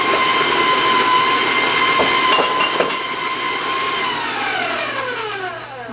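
Electric beater mixes chocolate chip cookie dough with a loud, steady motor whir close by, then slows and winds down in pitch near the end.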